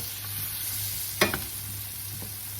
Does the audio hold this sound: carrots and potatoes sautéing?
yes